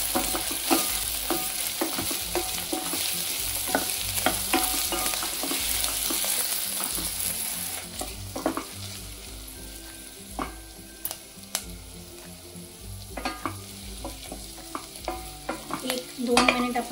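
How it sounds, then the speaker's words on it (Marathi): A spoon stirs onion sautéing in a pan for broccoli almond soup, giving a steady close sizzle broken by repeated scraping and clacking strokes, with no talking. "एक 2 मिनिट आपण हा कांदा परतून घेतलाय।"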